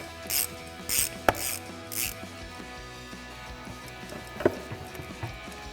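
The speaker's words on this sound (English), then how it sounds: "get your drain pan and a 13mm socket. Break that bolt free." A ratchet fitted with a 13mm socket clicks in short bursts as it breaks a brake caliper bolt free on a 2015-2023 Mustang EcoBoost. Several separate ratcheting runs come close and loud, with a couple of sharp metallic knocks in between.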